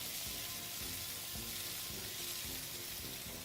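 Lamb meat sears in olive oil in a pan, a steady, even hiss of hot fat that holds constant for the whole stretch, close up with no talking.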